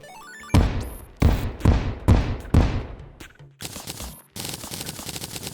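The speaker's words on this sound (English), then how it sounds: "completely destroying the first one with bombs" Several bombs exploding one after another while tearing down a house in Terraria, with sharp, loud booms and crackling decay, followed by lighter chiptune-like game noise.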